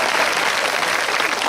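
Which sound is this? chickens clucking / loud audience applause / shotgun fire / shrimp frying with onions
loud audience applause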